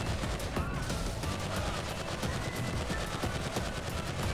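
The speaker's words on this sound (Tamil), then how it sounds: "இந்த பிஸ்டல்லே வந்து பார்த்தீங்கன்னா கொஞ்சம் பவர்ஃபுல்லாக இருக்குது." Rapid, continuous gunfire from a pistol in the video game GTA 5, a dense stream of loud repeated shots with no pauses across the whole stretch.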